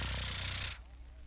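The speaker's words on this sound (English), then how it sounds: "This is accomplished by fluttering the soft palate in the back of your throat" A rough, rapid fluttering rattle made by vibrating the soft palate at the back of the throat, loud and close, lasting under a second before cutting off to near silence.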